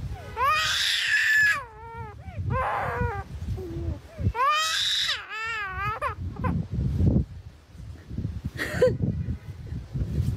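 A black-collared starling mimics a fussing, crying baby with loud, wavering wails in several bursts, tapering into softer whimpers, while people talk quietly in the background.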